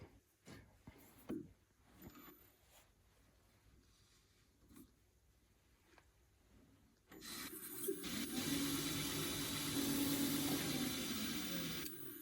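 A waxed bark box of very hard Tasmanian horizontal scrub spins on a wood lathe while being polished, a soft scraping rub that turns to a sustained, louder friction hiss in the second half after quiet shop noises.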